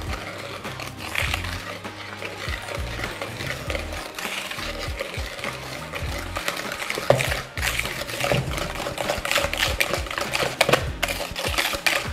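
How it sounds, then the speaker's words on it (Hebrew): A spoon scrapes and knocks gently through thick chocolate brownie batter as flour is folded in, with steady close stirring, soft tapping and squelching against the bowl over several seconds, with no talking. "אני מערבבת בעדינות."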